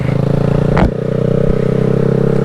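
A 2020 Honda Grom motorcycle runs steadily during an early morning ride, its small engine droning in a continuous buzzing hum with a brief clatter partway through.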